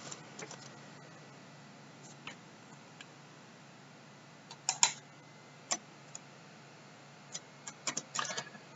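Faint, sparse key clicks from a computer keyboard as a thumbnail title is typed into Canva, with scattered single taps and a few quick bursts in a quiet room.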